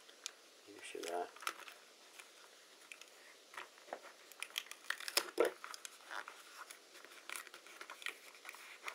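Foil crinkled and pressed by hand while a XAircraft X650V octocopter drone is assembled, quiet irregular crackles and soft rustles in a calm room, with scattered sharper crinkles.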